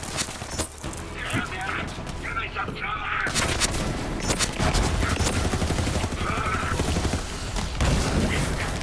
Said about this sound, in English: That was hip firing